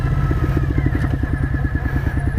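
A motorcycle rides down the road near a church, its engine thumping in a steady, close, loud rhythm with a faint higher whine.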